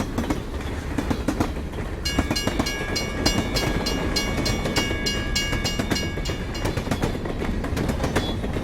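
A train of the São Paulo Railway rolls past in the Brás neighbourhood of São Paulo, loud and close, its steady wheel rumble and rhythmic clickety-clack over the rails joined by a high metallic squeal midway.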